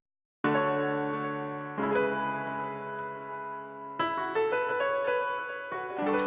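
A music beat played through a mastering effect chain, with sustained layered chords that shift at a few points, loud and full throughout, with no voices.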